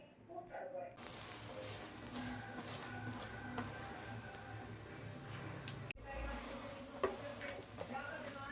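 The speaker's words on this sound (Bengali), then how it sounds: "চলো এবার পরোটাগুলো ভাজবো" Parathas sizzle and hiss in a hot pan, fairly quiet and close, with a few knocks and shifts as they are moved and turned.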